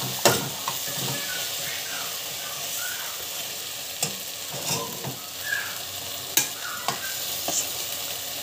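Onions and vegetables sautéing in a pan for tomato bath, hissing with a steady sizzle and occasional scraping stirs, close and alone.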